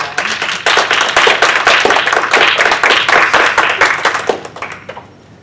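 Sustained audience applause for symposium panelists, dense clapping throughout that fades out near the end.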